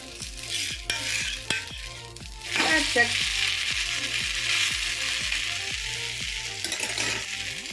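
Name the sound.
bottle gourd adai batter frying on a pan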